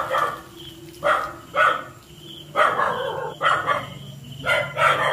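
A dog barking noisily near an abandoned house, a repeated series of loud, clipped barks at fairly regular intervals, moderately close.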